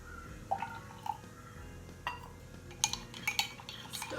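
A spoon stirs coffee in a mug, striking the sides in a string of light metallic clinks at uneven intervals, growing busier toward the end, close and fairly quiet.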